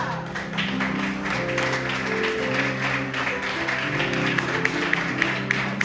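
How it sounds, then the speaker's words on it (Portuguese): A church congregation applauds with steady, dense clapping under sustained organ or keyboard tones, continuous and fairly loud throughout, with no talking. "Você que pode, aplaude ao Senhor"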